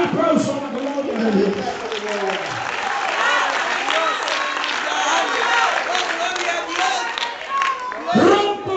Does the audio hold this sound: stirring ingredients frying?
no